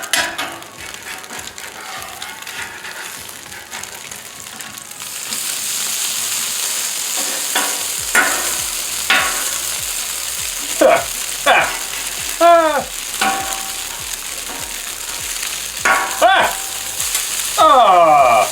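A vegan tofu burger patty fries in a pan with a steady sizzle, then several distinct scraping, clattering spatula strokes as it is flipped, the frying hiss rising afterward.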